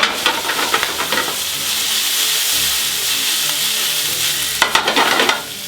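Bacon lardons crackle and sizzle in a hot pan as a utensil stirs and turns them, with scraping bursts near the start and end over a steady frying hiss; no speech.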